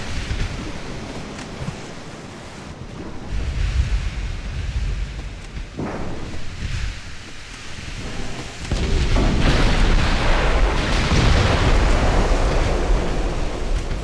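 Naval guns boom and shells strike in Ultimate Admiral: Dreadnoughts, heard as rolling thunder-like rumbles with a sharp crack midway, then a heavier, sustained roar of fire and impacts.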